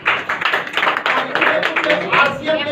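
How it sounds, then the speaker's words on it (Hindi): An audience at a Vestige gathering claps in a close, lively burst of uneven hand claps lasting a few seconds, with a voice speaking over it. "इनके लिए भी जोरदार तालियां।"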